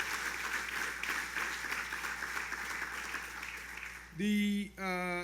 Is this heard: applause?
yes